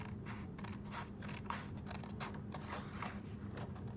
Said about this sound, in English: So then I'm going to take my precision point scissors